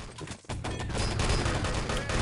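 Dense, loud automatic gunfire rattles almost without pause in an Enemy Territory 6on6 LAN tournament match, with a brief break just before it resumes as a sustained fusillade.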